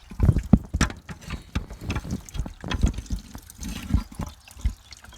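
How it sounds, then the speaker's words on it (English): Coolant water gushes out of a freeze-damaged, leaking car radiator and frost plug, irregular splashing and gurgling bursts up close, uneven and wet. "it is just pouring out of the radiator"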